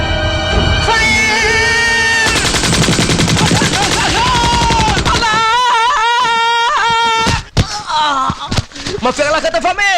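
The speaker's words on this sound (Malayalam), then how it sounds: "പടക്കം പൊട്ടിയപ്പോ ഞാൻ വിചാരിച്ചു എന്നാരോ വെടിവെച്ചിട്ടതാണ്." Firecrackers burst loudly in rapid, gunfire-like volleys over music, with sharp cracks continuing amid voices in a comedy film scene.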